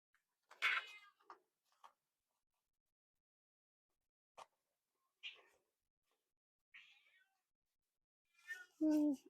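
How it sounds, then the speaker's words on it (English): A pet cat meows several times indoors, short separate calls spaced across quiet gaps, ending in a louder, drawn-out meow up close. "that was my cat."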